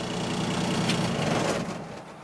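Truck engine being switched off: a loud close rumbling idle that holds briefly, then drops away as the engine shuts down.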